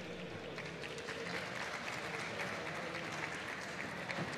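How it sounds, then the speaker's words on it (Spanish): Audience applause at a Campus Party technology event talk, a steady wash of clapping from a crowd that holds at an even level throughout, with no voices over it. "Tendríamos que pedir un aplauso para el fundador de Campus Party por su interrupción innecesaria."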